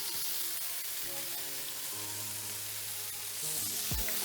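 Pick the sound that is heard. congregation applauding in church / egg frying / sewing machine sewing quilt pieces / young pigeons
egg frying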